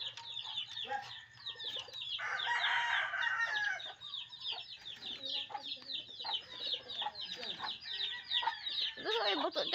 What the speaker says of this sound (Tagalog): Mga manok ko nagugutom na.